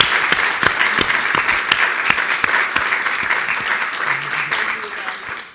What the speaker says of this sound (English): please join me in giving one final round of applause